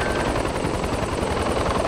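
Helicopter flying in a military tactical shooter game, a loud continuous rotor thump and turbine roar with a steady pulsing chop, close and dominant, with no voices.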